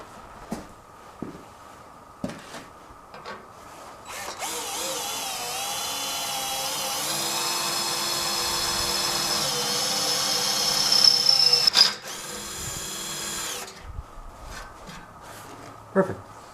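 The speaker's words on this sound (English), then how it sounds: "Drill a hole here and here, put screws down through" A power drill bores holes in a David Brown tractor part, one long loud run with a briefer burst after it, preceded by a few knocks and handling sounds.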